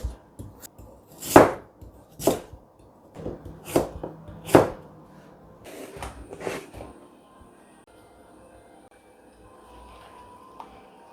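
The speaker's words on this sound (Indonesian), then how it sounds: "Nah, telonnya dipotong sesuai selera ya." Taro being chopped with a knife on a cutting board for frying: a series of sharp, close knocks in uneven clusters, louder at first and then thinning into softer taps and faint kitchen clatter.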